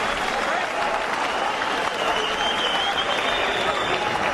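A boxing arena crowd applauds and cheers the two bloodied fighters at the end of a bout, a steady roaring wall of clapping and crowd noise with a commentator's voice faintly mixed in.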